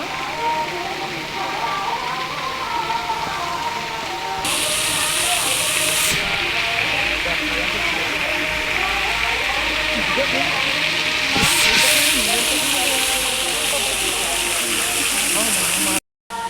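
Water pours steadily over a stone idol at a South Indian temple, a loud continuous rushing hiss that swells partway through and holds with little change, ending in a brief cut.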